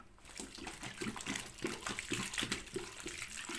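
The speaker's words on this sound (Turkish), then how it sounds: "1 litre daha su koyalım." Water poured steadily into a bowl while making Kayseri mantı dough, a continuous splashing gush lasting a few seconds with no voices.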